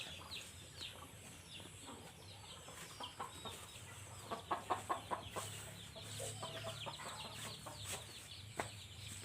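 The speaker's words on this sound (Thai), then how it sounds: "ข้างนี้เป็นไก่แม่ลูกอ่อนค่ะ" A mother hen with her chicks clucks on a farm, a steady run of short soft clucks and peeps at close range, with a brief flurry of sharper calls midway and faint cheeping throughout.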